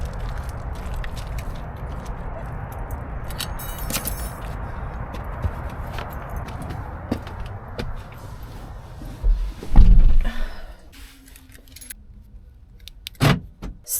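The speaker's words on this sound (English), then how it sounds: "we're gonna go into the van through the passenger side door" A van's passenger side door is unlocked and opened, with keys jangling over a loud steady engine or road rumble, a heavy thump and clunk of the door, then a quieter stretch and a final sharp click.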